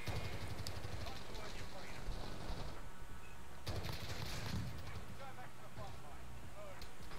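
Gunfire rings out in the Call of Duty Warzone (Cold War season 1) gulag: a sharp burst at the start and another a few seconds later, with someone talking steadily over the game audio throughout.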